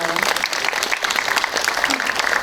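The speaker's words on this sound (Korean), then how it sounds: "박수 좀 부탁드릴게요" Audience applause at a film Q&A screening, a dense, steady burst of many hands clapping close and loud throughout, with faint voices underneath.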